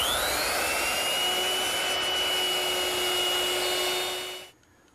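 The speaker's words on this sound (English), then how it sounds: "I'm turning to my router, which is equipped with a 1/4-inch rounding over bit." A router fitted with a 1/4-inch round-over bit whines at high speed while easing the edges of wooden gate pieces, loud and steady, then spins down and falls silent near the end.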